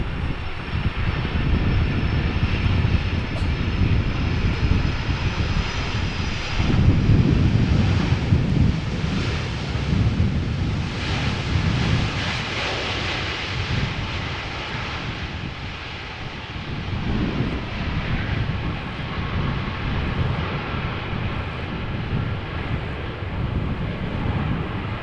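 An airliner lands in a crosswind at Amsterdam Schiphol Airport, a broad, steady jet roar mixed with heavy wind buffeting on the microphone that swells briefly and then holds at a constant level with no talk.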